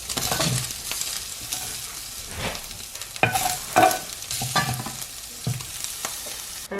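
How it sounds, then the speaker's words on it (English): Bacon frying in a pan for a slow cooker recipe, a steady close sizzle with stirring and scraping bursts, alone without talk. "Once my bacon has gone nice and brown, I'm just going to remove it and set it to one side."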